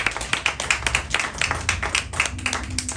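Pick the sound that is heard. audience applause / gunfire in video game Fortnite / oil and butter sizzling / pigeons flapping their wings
audience applause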